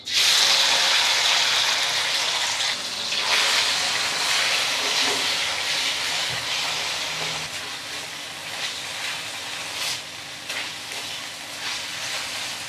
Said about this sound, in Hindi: ऑयल गर्म हो जाने के बाद हम इसमें चिकन डाल देंगे जो हम मैरिनेट किए हैं।